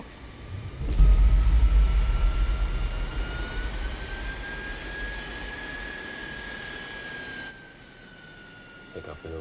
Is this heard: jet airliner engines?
yes